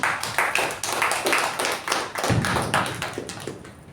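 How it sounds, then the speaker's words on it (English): A small room of Toastmasters meeting attendees claps for the MC, individual hand claps distinct and close, rising and falling in short waves with a sharp thump partway through. "So please give a huge round of applause to our MC for the day."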